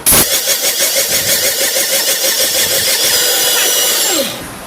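A Panasonic mixer grinder whirs at a steady high-pitched drone close by, then winds down and cuts off near the end.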